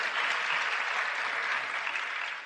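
Audience applause at a seminar, a dense, even burst of clapping from a crowd that holds steady and starts to taper at the end.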